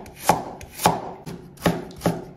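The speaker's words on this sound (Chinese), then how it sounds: "洗干净的胡萝卜切掉头尾不用，我们先给它切成薄薄的厚片。" A knife slices a washed carrot into thin slices on a board, four crisp, evenly spaced chops close up with no talking.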